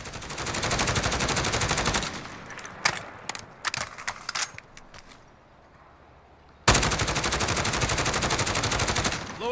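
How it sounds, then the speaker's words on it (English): SIG556 rifle fire in Call of Duty Modern Warfare: a loud sustained automatic burst, then scattered single shots and clicks over a quieter lull, then another long rapid burst. "So you can see shots are very accurate, specifically at range as well."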